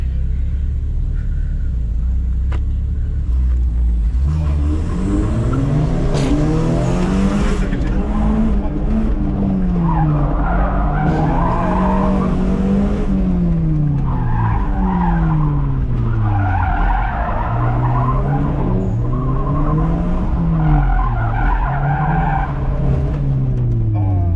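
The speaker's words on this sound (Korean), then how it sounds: "지금 폰티악 솔스티스로 짐카나에 들어가고 있습니다" A Pontiac Solstice sports car revs and swerves through tight gymkhana turns, engine pitch rising and falling repeatedly while tires squeal and skid in loud, continuous bursts.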